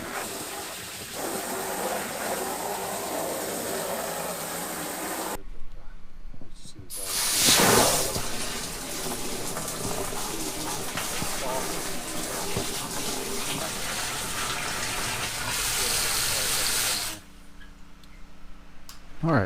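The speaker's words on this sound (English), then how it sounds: "We're rinsing this out of this tank out pretty good." Water hissing and rushing as a 40 gallon Fimco three-point sprayer tank is rinsed out, a loud steady spray broken by brief pauses, with a louder gush partway through and someone talking under it.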